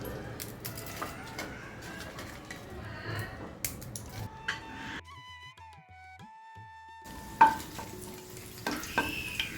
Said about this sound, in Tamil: இந்த வெண்டைக்காயையும் நம்ம மிளகாக்கரையும் நம்ம இதில் நல்லா வறுத்து எடுத்துடலாம்